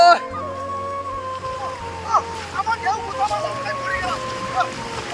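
A boat's motor drones steadily while the hull slaps through waves with scattered splashes, and people talk over the noise.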